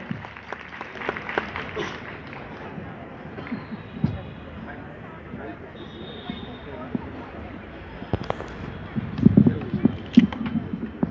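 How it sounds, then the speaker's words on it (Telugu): An audience at a church's united Christmas celebration claps, a moderate, scattered patter of hands heard alongside voices and room noise, swelling a little toward the end. "గట్టిగా చప్పట్లు కొడదాం"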